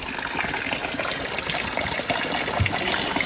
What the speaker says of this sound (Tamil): என்னடா பைப் தண்ணியாட்ட ஊற்றுது